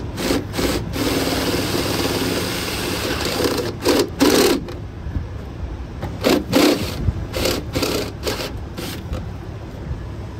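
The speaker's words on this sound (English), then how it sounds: "So now we're going to use a step drill bit" A step drill bit cuts through the steel door of a 1972 VW Beetle, giving a close, continuous grinding rasp broken by repeated short pauses and bursts as the bit is worked through the metal.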